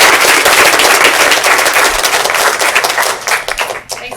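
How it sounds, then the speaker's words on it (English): Loud, dense applause from an audience after a machine learning talk, a thick crackle of many hands that thins and fades out near the end. "So let's give a round of applause."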